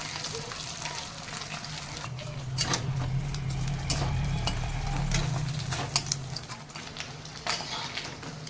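Small bamboo-leaf river fish frying in hot oil give a steady, moderately loud sizzle that swells a little in the middle and carries some faint clatter, with no talking.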